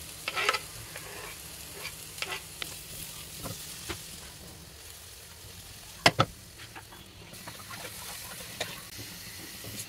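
Cumin, finely chopped ginger, garlic and green chilli frying in a pan for paneer bhurji, a continuous low sizzle with a few sharp clinks and scrapes of stirring.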